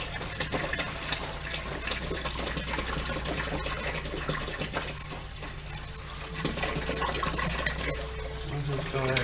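Distilled white vinegar pours from a gallon jug over a carburetor, a continuous close splashing and trickling of liquid that lasts the whole stretch.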